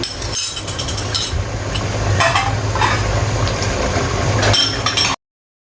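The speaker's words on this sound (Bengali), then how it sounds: "সে ব্লেন্ড করা গ্রেভিটা আমি দিয়ে দিচ্ছি, এতে মাংসের টেস্ট আরও বেশি বাড়বে।" Blended gravy poured into beef frying in a pan for an Eid-style beef curry, with a steady loud sizzle, clinks of a spoon against the pot and stirring throughout.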